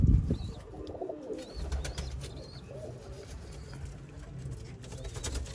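Low, murmuring pigeon coos repeat close by, with faint chirps and a few scattered clicks and rustles around them.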